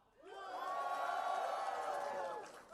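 Live crowd at a Bandai Namco Summer Games event cheering on cue from the back row, a loud sustained swell of whoops and shouts that rises quickly and holds for a couple of seconds.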